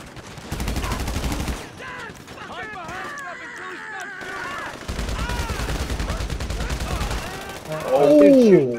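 Sniper rifle and other gunfire in a video game, heard as bursts of shots and impacts mixed with game effects, with a voice shouting under the action.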